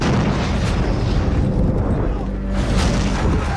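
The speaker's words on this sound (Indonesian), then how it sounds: "tiba-tiba mereka dikejutkan dengan ledakan bom yang langsung membuat kekacauan" A heavy, rumbling bomb blast in a film scene fills the scene with deep booming and a roaring wash of debris, loud and close, with a voice mixed in.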